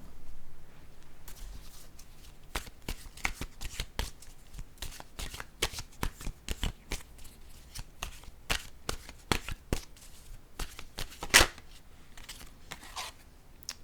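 Oracle or tarot cards are shuffled and drawn by hand, giving a quiet, close run of crisp flicks and riffles in irregular bursts, with a sharper snap near the end.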